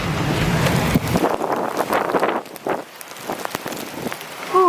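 Heavy rain and gusting wind batter the microphone during a tornado-warned storm near New Cambria, Missouri, making a dense, roaring wash with surging buffets that ease briefly before a faint high tone near the end.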